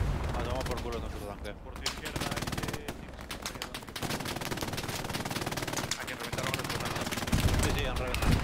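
Sustained machine-gun and rifle fire rattle through a Hell Let Loose battle, dense rapid bursts with scattered heavier reports, continuous and fairly close, with someone talking over the shooting.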